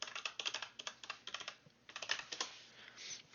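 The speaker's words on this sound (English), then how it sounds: "I just need to punch in the password." Quick bursts of keystrokes on a computer keyboard as a password is typed, close and fairly quiet, in irregular rapid clusters with a brief pause midway.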